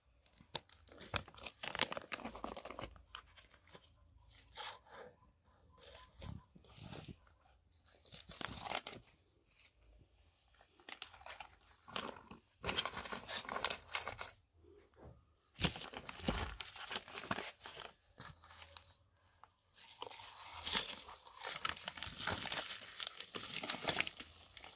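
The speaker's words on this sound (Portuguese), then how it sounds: "vai cortar o saquinho." Plastic seedling bag being cut open and torn away from a young plant's root ball, giving repeated close crinkling, tearing and crunching bursts with brief pauses, loud and alone.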